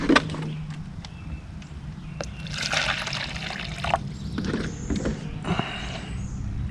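Water trickles and pours in a faint, uneven stream onto rice at a tent campsite, with a few soft clinks and knocks nearby.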